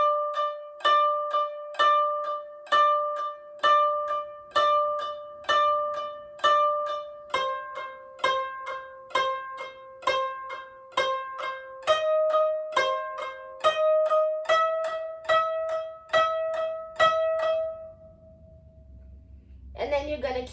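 Koto phrase plucked on a string with a half push on string 11, a steady series of bright plucked notes with slight pitch bends, close and clear, ending with a long ringing note and a soft rustle.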